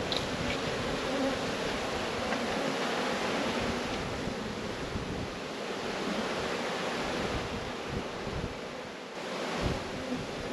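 Honeybees fill the air with a dense, continuous buzzing while a hive is opened for inspection, a loud, close drone holding steady throughout with no talk.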